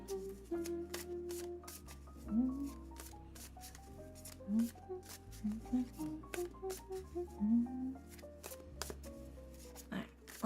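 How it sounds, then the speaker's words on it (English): Tarot cards are shuffled by hand in a quick series of soft riffling slaps and flutters, close and fairly quiet, over a low, steady background. "And I'll shuffle the cards with the intent for art advice specifically."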